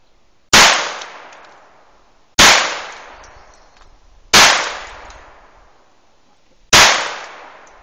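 Four sharp gunshots from a handgun fired at a target crack out one by one at uneven intervals of about two seconds, each loud and close with a short decaying tail and near silence between.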